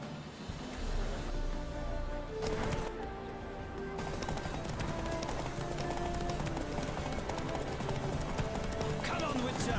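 Horses gallop in a race in Witcher 3, hooves clip-clopping steadily under loud continuous game music and ambience, with voices talking over it.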